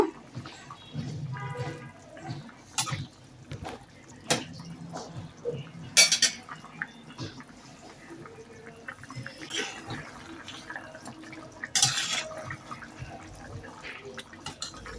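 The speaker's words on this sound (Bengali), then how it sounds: "এই তো বলক এসে গেছে এখন বেজে রাখা মাছগুলো আমি দিয়ে দিলাম আর কয়েকটা কাঁচামরিচ দিয়ে দেবো" Fried pangas fish pieces and green chillies go into a boiling potato curry, with scattered clinks of metal utensils against the pot and soft liquid bubbling and splashing, fairly close.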